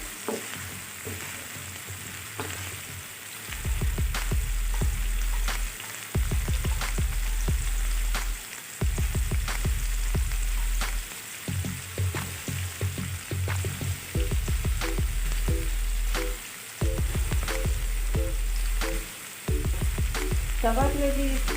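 Onions fry to golden in a pan for chicken tawa kaleji, a steady close sizzle with repeated stirring scrapes and brief pauses.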